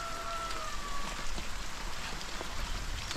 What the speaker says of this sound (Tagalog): parang hindi na titigil yung ulan